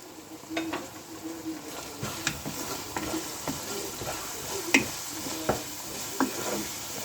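Baingan bharta with spices added being stirred in a pan over a steady soft sizzle, with intermittent scraping and light clinks of the utensil.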